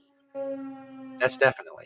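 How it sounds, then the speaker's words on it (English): A siren sounds as a steady, sustained tone that starts abruptly and holds for about a second before a voice speaks over it. "you can tell he's closer to the sirens than he used to be"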